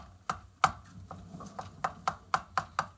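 Repeated scraping and sizzling strikes of browning meat against a pot bottom, about nine sharp bursts in an uneven rhythm, close and moderately loud over a low rumble.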